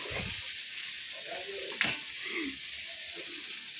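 Meat sizzling quietly in a pan in a home kitchen, a soft continuous hiss broken by a few stirring scrapes and one sharp utensil clink partway through.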